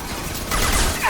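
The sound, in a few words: high impact gunshot in video game Mass Effect 2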